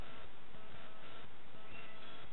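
Bees buzzing outdoors, a faint, steady, continuous drone with no clear breaks, heard alone without talk.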